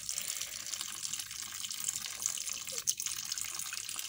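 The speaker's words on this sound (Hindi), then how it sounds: "तो अब हम पानी का टैप चलाते हैं" A sink tap runs in a steady hiss of flowing water, close and moderately loud, with a small clunk near the end and no talk.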